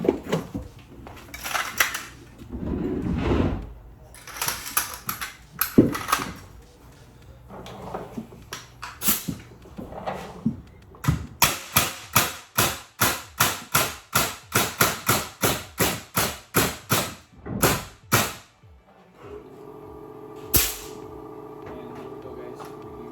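A Hitachi NR83 nail gun test fired after a repaired nose part, giving a long rapid run of sharp, loud pneumatic bangs in steady rhythm, with some handling clatter and brief talk before and after.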